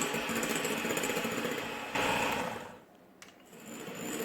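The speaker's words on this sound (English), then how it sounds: "So we're just going to whisk up our egg whites now." An electric hand whisk beats egg whites for an asparagus soufflé, a steady motor whir that holds loud, briefly dips around the middle, then resumes at full strength.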